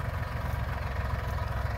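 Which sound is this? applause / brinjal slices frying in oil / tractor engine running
tractor engine running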